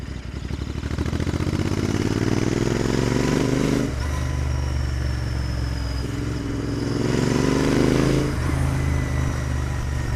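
A Royal Enfield Interceptor 650 motorcycle on a test ride, its engine droning steadily and rising in pitch through two long accelerations with gear changes, close and loud, with no talk.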